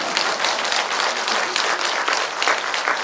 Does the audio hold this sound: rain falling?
no